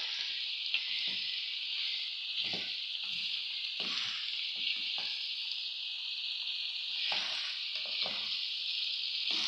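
Garlic cloves fry in oil in a pan with a steady close sizzle, broken by several short scraping stirs throughout.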